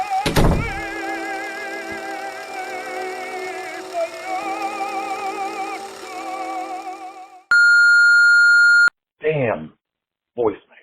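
A phone call rings out as a steady repeating electronic tone over background music, then cuts to a long flat beep marking the switch to voicemail, followed by brief bursts of a voice.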